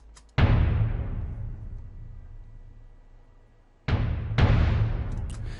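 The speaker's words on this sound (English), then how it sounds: "Those are layered with some drums that I made myself." Self-made epic drums, three layers stacked, strike twice: a huge booming hit with a long decaying tail, then a pair of close heavy hits near the end, loud and alone.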